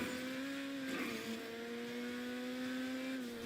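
A sports car speeds along a road in a video game, its engine holding a steady whine with small pitch shifts. The sound is continuous, fairly quiet and heard alone.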